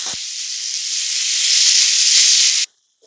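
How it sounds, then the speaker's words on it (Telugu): Grated raw mango frying in a pan for mango pulihora, a loud, close, continuous hiss and sizzle that swells slightly over about two and a half seconds, then cuts off abruptly, with no voices. "తురుము బాగా వేగాలండి"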